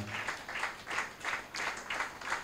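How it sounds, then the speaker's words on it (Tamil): A church anniversary audience applauds for the tiling team in pulsing bursts of clapping, about six swells in quick succession, moderately loud in a large hall. "கைத்தட்டுங்க அவங்களுக்காக"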